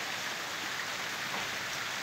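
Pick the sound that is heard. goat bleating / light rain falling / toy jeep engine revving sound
light rain falling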